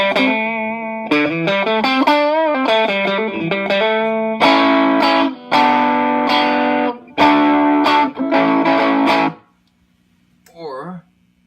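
Fender Strat electric guitar played through a TFA Strongarm JFET boost pedal: a warm, loud, overdriven phrase of sustained notes and chords in clear bursts, ending with a brief soft note after a pause.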